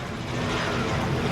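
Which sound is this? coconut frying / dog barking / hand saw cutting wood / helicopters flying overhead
helicopters flying overhead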